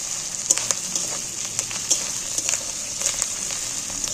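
Ginger garlic paste fries in hot oil in a pan for a jackfruit curry, giving a steady close hiss broken by frequent sharp little crackles and pops.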